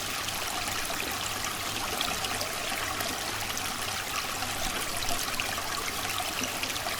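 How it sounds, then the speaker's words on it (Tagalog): Water flows along a small stream beside a rice-field irrigation area, a steady broadband rush and trickle that holds unchanged throughout. It is fairly close, with no talking over it. "O sapa"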